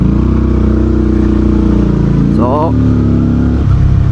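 A 2026 VOGE CU625 V2 motorcycle with an automated manual gearbox accelerates hard, its loud, close engine note climbing in pitch and dropping sharply at each upshift, with a rider talking over it.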